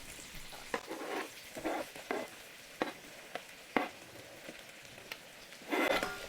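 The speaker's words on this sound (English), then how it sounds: "now we're gonna put in our onions." Onions fry in sausage and chicken fat for gumbo, giving a quiet, steady sizzle broken by several soft stirring scrapes and taps, swelling louder near the end.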